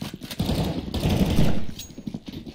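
Rapid gunfire bursts ring out during a Counter-Strike matchmaking game, dense rattling shots layered closely together with fast repeated reports.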